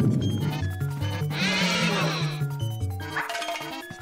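A cartoon horse in Luigi's Mansion gives two bright whinnying neighs, loud and close, layered over tinkling, chiming game music.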